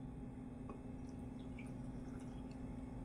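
Water poured into a blender holding blended melon and sugar for melon ice, a quiet steady liquid trickle with small drips and splashes over a low constant hum.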